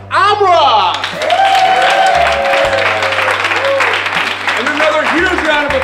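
A studio audience applauds and cheers a musical guest on a Hollywood entertainment show, loud sustained clapping with whoops over a low musical bed, while a voice talks over it.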